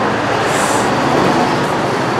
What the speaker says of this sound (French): il y a des voitures qui passent derrière ma caméra